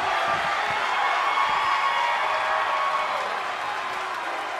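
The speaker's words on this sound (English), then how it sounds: "The WWE Universe is showing their appreciation for the action they're seeing." An arena crowd in the WWE 2K23 wrestling game applauds and cheers in a dense, continuous roar of clapping and shouts that holds steady throughout.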